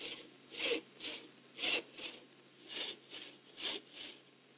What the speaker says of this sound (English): hold the saw at a 45-degree angle to the board and always start the cut with a backstroke